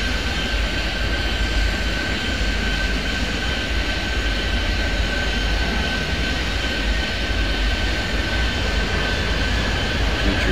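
An airliner is on pushback in the airport video game Airport Madness 3D, a steady loud droning engine rumble with a constant whine held through the whole stretch, with no talk.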